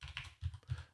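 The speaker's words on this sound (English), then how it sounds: "So go ahead and type in" Someone types on a computer keyboard while entering Java code in the Eclipse editor, giving a quick run of close, soft key clicks in small bursts.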